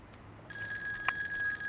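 A Yakuza telephone rings in the video game GTA 2, a steady electronic trill that starts partway in and holds at an even level with a single louder blip near the end.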